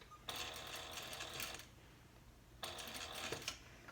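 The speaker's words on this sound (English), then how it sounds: "So we're just sewing straight across" Sewing machine running a straight seam across a handbag lining with a 3/4 inch seam allowance, two steady bursts of rapid needle clatter, the first about 1.3 seconds and the second about 1.3 seconds, separated by a short pause, close and clear.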